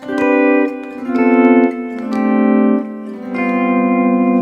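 Jazz electric guitar plays a series of sustained chord voicings moving diatonically from one to the next, four or so chords with a touch of reverb, unaccompanied.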